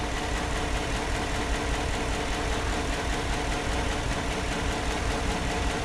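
A 2016 Chevy Suburban engine idles with cylinder 4 misfiring from a compression fault, a loud, close, steady rumble with a rough, uneven knock running through it and no talking.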